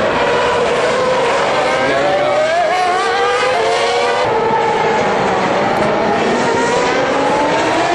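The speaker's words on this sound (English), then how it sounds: "Just before the race begins, some of the drivers do some installation laps around the track." Formula One cars running installation laps around the Singapore Grand Prix street circuit, a loud continuous engine roar with rising and falling pitch as cars pass, steady throughout with no talk.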